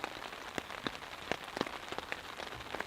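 Rain pattering on a surface outside a campsite, a steady dense wash of drops with scattered louder taps, moderately close and continuous.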